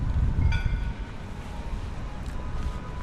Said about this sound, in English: At the moment we're at the Manchester Central train station.